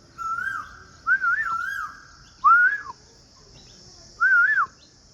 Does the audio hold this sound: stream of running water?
no